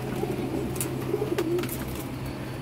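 Soft cooing of pet doves or pigeons, a few gentle low calls repeating over a steady background hum, fairly close.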